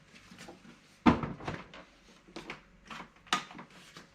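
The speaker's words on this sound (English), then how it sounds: "So now I can utilize those drawers while it's on here." Drawers on stacked Festool systainer toolboxes slide open and shut on a portable SYS-MFT workbench, giving a series of sharp plastic clacks and rattles, one louder knock followed by several lighter, irregular clicks, close up.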